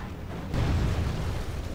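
Artillery fire in the strategy game Medieval II Total War, heard as a dull, rumbling boom that swells suddenly partway through and lingers as a broad low roar.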